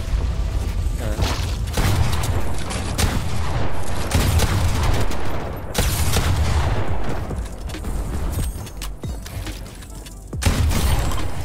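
Gunfire in a Fortnite Battle Royale late-game fight, with repeated bursts of loud shots and mechanical clatter coming in waves, a brief lull near the end, then another burst.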